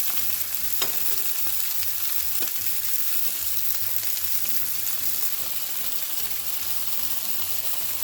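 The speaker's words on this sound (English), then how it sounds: "we are going to continue to cook these until they are brown on all sides" Italian sausages fry in a pan with a steady, close hiss of sizzling fat, interrupted by a few small pops and faint scraping, with no one talking.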